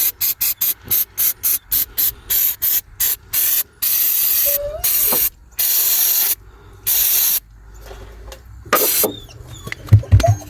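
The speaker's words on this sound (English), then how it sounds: "I found some mass airflow sensor cleaner. This will probably work just as good." Mass airflow sensor cleaner hisses from an aerosol can in a fast series of short, loud spray bursts, then a few longer blasts with pauses between, close up and with no talk.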